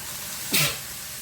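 A single sharp sneeze, close and sudden, bursting out over a quiet background and fading within a fraction of a second.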